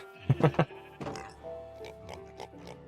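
A few quick squeaky oinks in a burst from video game pigs, then softer scattered piggy grunts, bright and close, with no talking.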